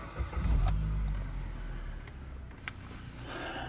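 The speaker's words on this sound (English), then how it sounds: "let me start the car and I'll show you." A Suzuki Vitara engine turns over and catches, with a loud low rumble in the first second that settles into a steady idle, plus a couple of faint clicks.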